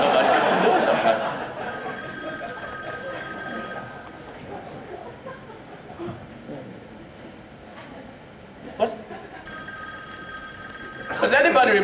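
A cell phone rings out during a live comedy show in two bursts of bright repeated tones, separated by a stretch of room murmur and people talking.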